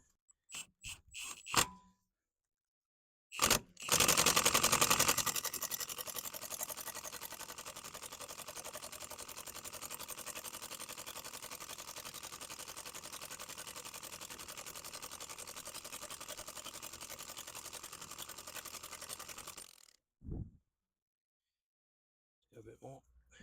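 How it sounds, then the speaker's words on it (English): Impact gun slowly winding a new ABS ring nut onto a BMW E92 325i on its lowest setting, a loud sustained mechanical whirr running about fifteen seconds after a few short bursts, with speech nearby. "Just wind her on slowly"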